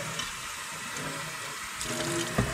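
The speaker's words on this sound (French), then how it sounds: "n'hésitez pas au niveau du rinçage" Water running to rinse the tank of a Phœnix appliance during cleaning, a steady close splashing flow with a few louder sloshes toward the end.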